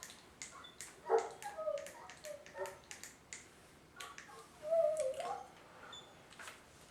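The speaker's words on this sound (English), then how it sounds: "Got a dog outside going crazy." A dog outside barks and yips in quick, distant bursts, faint and a little muffled against a quiet background.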